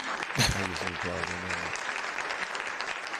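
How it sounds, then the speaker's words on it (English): Canned applause sound effect played during a live-streamed podcast, a burst of clapping and cheering that swells and then holds steady, with a voice speaking briefly over its start. "I'll give you some applause on that one."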